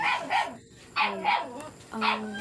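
A dog barks several times in quick, sharp yips, close by and fairly quiet, with short pauses between the barks.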